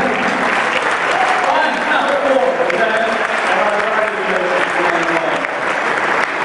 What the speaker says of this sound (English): Give yourselves a round of applause for sending